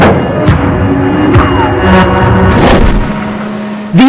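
The main gun of an M1 tank fires in a loud, booming shot, followed by a rumbling roll and low mechanical hum, then a second heavy thump near the end.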